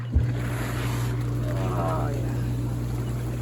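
Hot tub jets run outdoors in a cold Canadian winter, making a steady, loud churning rumble and hiss that fills the whole clip. A short voice is heard briefly over it.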